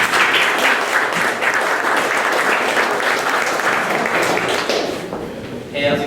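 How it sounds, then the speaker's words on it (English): Audience at a startup pitch event applauds steadily and loudly for a presenting co-founder, a dense continuous clapping that fades slightly near the end before a brief swell. "please give him a warm round of applause"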